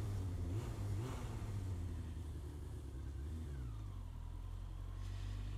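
A Honda RF900R motorcycle engine idles with a low, steady rumble, close by and continuous, with a slight rise in revs near the start.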